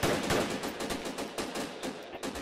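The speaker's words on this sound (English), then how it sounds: "Everybody take aim, I'm gonna count down, and then people's gonna start firing." Massed rifle and machine-gun fire from many players in Battlefield 2 Project Reality, a dense, loud, continuous volley of overlapping rapid shots with no voices.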